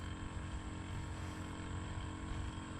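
A motorized power sprayer's small engine drones steadily at close range while spraying eggplant, a constant mechanical buzz with low rumbling underneath and no pauses.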